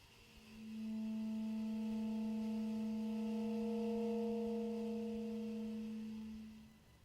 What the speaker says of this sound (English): So multiphonics can have all sorts of colors and nuance to them